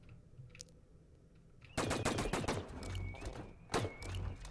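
Rapid automatic gunfire erupts in the sci-fi shooter game The Signal From Tölva, dense loud bursts of shots after a quieter ambient stretch, with another burst near the end.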